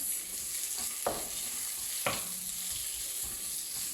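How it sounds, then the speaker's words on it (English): Onions sauté in oil in a pan, a soft continuous sizzle under a couple of sharp stirring scrapes, close and fairly quiet with no voices. "Get enough oil in there so that your onions don't burn, right? Saute your onions."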